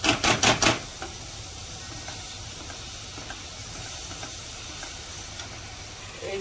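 Chopped onions hiss and sizzle softly in a hot pan after a few quick clattering taps, the steady frying sound staying faint and continuous without speech.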